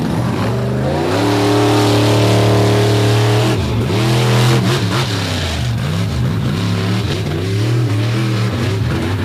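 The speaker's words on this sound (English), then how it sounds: "you can hear that engine popping and cracking" Monster truck engine at a Bloomsburg monster truck show, running loud and rough with a steady roar and uneven pops and crackles from a misfire, close and continuous with no talk over it.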